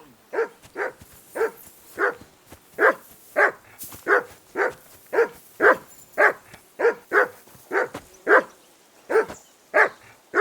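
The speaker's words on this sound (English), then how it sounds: "Call off that mutt of yours!" Mutt the dog barks in Kingdom Come Deliverance II, a steady series of sharp, close barks roughly every half second that go on for about ten seconds with no other sound.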